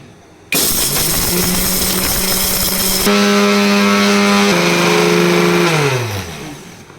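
A mixer grinder spins roasted whole spices, coconut and salt into a Malvani masala paste: a loud, close motor whine that starts abruptly, shifts pitch partway through, then winds down near the end.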